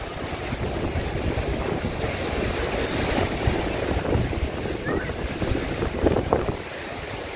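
Black Sea waves at Odesa's beaches roll and wash continuously amid strong wind buffeting the microphone, a rough, steady roar with surging swells.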